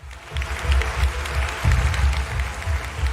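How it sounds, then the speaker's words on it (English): Clapping follows the announcement of a debate playoff result, a moderate burst of applause over a low, rumbling room background. "Eniola, I saw you clapping for Mary just now."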